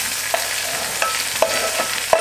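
Garlic, onion and ginger fry in a pan with a steady, close hiss of sizzling oil, broken by a few sharp clicks and scrapes of a spoon stirring at irregular intervals.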